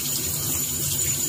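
Water runs from a kitchen tap in a brief, steady hiss and splash, close and constant, with no voices.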